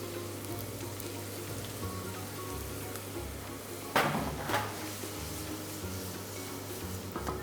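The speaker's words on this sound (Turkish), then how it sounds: "Ve zibeklerimizi soteleyeceğiz, kavuracağız." Steady sizzling and crackling of chopped zibek greens sautéing in hot oil, with a low hum underneath and a couple of louder clattering stirs midway.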